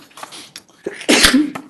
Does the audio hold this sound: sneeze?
yes